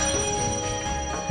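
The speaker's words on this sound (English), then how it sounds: "The bell was just crazy loud." The bell of a payphone in the Mojave desert rings steadily and loudly with sustained metallic tones, close by, ending in a soft bump.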